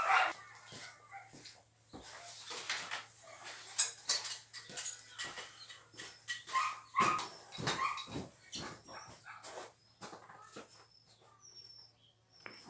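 Barks from sled dogs being trained before a race, sharp and repeated in irregular bursts at fairly close range, with clinks and clatter from harness or gear and faint bird calls in the background.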